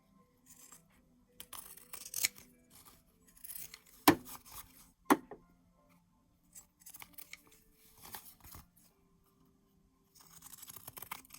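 Scissors trim the edges of a handmade fabric-square card. Sharp snips and crisp paper and fabric rustles come close and sparse, spread between quiet gaps.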